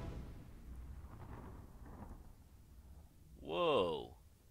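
A short, muffled explosion boom swells and fades in the PC adventure game Lost on a beach, heard faintly under quiet game ambience and low distant rumbling before it.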